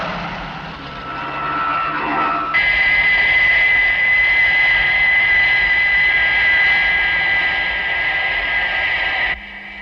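Airliner jet engines roar steadily through a landing approach, with a sharp rise in intensity a couple of seconds in and a sustained high whine over a broad rushing drone, cutting off abruptly near the end.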